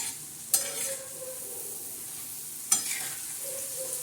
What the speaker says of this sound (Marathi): तर आता थोड्याशा शेंगा अशा चांगल्या थोडे हलवून घेऊ